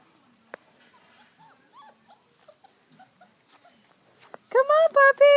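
Puppies whimpering and yipping: scattered soft, high whines and squeaks early on, then a burst of louder, closely spaced yelps near the end, close by with no talk over them.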